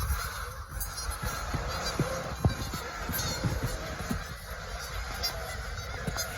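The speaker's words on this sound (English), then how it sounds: "I've never seen so many eagles at once, but look at all the geese." A large flock of geese honks continuously on a river, many overlapping calls at moderate distance, forming a dense, steady chorus with occasional sharper honks standing out.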